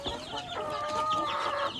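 Soft, continuous clucking and peeping from small chickens, a steady chatter of fowl calls close by with no talking.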